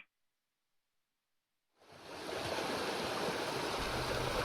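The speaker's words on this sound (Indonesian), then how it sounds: "Menikmati gemericik air yang mengalir di sungai yang dipecah bebatuan" River water babbles and rushes over rocks on the slopes of Mount Pamaton, Kiram village, Banjar, South Kalimantan. After near silence it fades in and settles into a steady, full, continuous flow with no voices.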